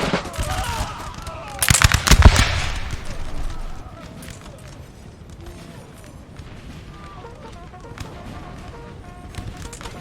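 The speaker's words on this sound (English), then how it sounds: "So the Chasseurs now firing away," A musket volley from Chasseurs in Napoleon Total War, a loud crackling burst of massed shots early on that gives way to quieter distant battle noise, with someone talking over it.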